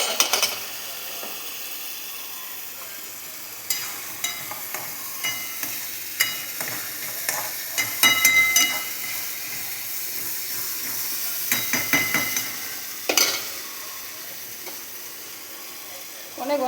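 An onion, cashew and garlic paste fries in oil with a steady sizzle, while a spoon scrapes and stirs the pan in bursts close by.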